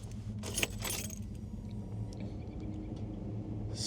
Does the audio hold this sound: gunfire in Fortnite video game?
no